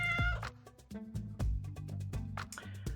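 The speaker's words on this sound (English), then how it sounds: "Stroke the cat's silky head, smiling as he purrs in response." A cartoonish cat in the Choices: Stories You Play game gives a run of several distinct meows over a low, steady purr-like hum, close and fairly loud with no talking.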